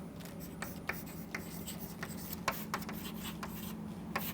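Chalk or marker writing on a board in a lecture hall, a steady series of short, scratchy strokes at an even, unhurried pace, moderately close, over a low constant room hum and with no talking.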